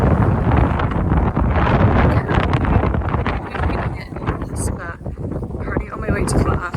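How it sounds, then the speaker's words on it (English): Strong gusty wind buffeting the microphone outdoors in Boston at -7 degrees, a loud continuous rumble with occasional rustling. "it's currently -7 degrees and quite windy"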